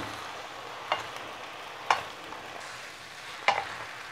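Noodles with bean sprouts, spring onion and sauce are stir-fried in a pan, a quiet steady sizzle broken by three sharp scraping knocks of the utensil against the pan.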